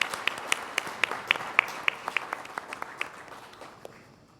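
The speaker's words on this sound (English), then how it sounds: "Let's give them a very big round of applause." An audience at an awards event claps for honoured colleagues, the applause made of sparse, distinct claps at moderate distance that thin out and fade over a few seconds.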